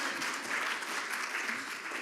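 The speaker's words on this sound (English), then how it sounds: "You can still clap your hands." An audience at a health inequalities training day claps, a brief, dense, steady burst of applause filling the room.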